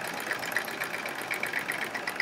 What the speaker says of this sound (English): It's skipping a few stitches here and there, but we're gonna live with it.